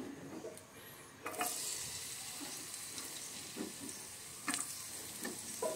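Garlic frying in a pan makes a soft, steady sizzle with occasional sharper crackles and light utensil clicks, close by and fairly quiet, with no talk.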